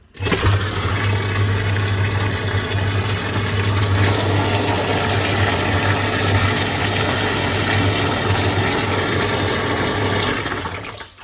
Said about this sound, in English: I'm obviously going to introduce air to it, which is going to circulate air through the pump, because I'm going to break the surface of the water.